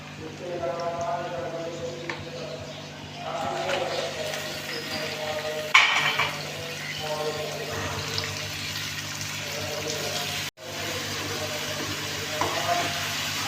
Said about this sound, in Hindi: कीमे को खूब अच्छी तरह से फ्राई करना है